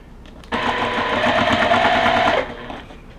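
A sewing machine stitches rows of a quilt block in one steady burst of about two seconds, its motor whirring close and loud before winding down.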